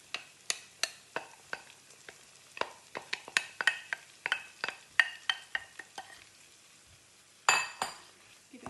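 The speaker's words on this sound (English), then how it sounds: "Give it a gentle stir." Onions sizzling with a ginger, garlic, chilli and plum tomato mix being stirred in a pan for vegetable paneer: repeated sharp spoon clinks against the pan over a quiet sizzle, close and rhythmic.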